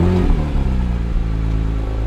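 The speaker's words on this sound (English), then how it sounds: "So now I'm sat in a GT3 Touring." Inside a Porsche 911 GT3 Touring, its 4-litre flat-six fires up with a loud, close churning roar that settles into a steady throbbing idle, no voices.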